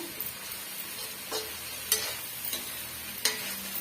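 Leaves sautéing with rock salt in a pan for chutney give a quiet, soft sizzle broken by a few sharp ladle scrapes and taps at irregular intervals, close by with no speech.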